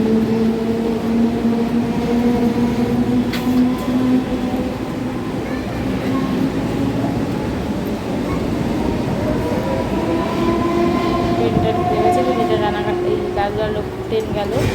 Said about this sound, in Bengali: বলতে বলতে ট্রেন ঢুকে গেছে।